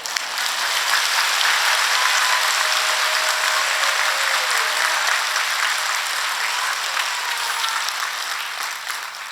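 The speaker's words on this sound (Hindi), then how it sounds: "आनंद नहीं आ रहा आपकी तालियों का।" A large audience at a religious saints' assembly claps at length, a thick, sustained rattle of many hands close by that eases slightly toward the end, with no one speaking.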